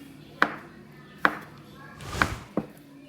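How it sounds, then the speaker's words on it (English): A knife chops a rope of gnocchi dough into chunks on a floured board, four distinct knocks spaced under a second apart, close and crisp against a quiet background. "Cut it into little chunks"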